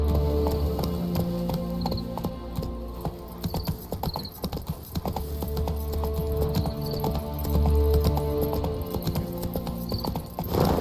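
Clip-clop of the horse Roach's hooves in a video game, a steady running rhythm of hoofbeats with occasional whinnies, set against a continuous game background.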